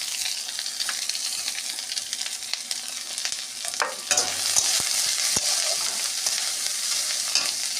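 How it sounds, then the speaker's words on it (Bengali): Chopped onions dropped into hot oil with already fried ginger and garlic sizzle loudly and steadily, with a louder burst midway as they hit the pan and occasional stirring knocks. "এবারে কুচনো পেঁয়াজগুলো আমি দিয়ে দেবো"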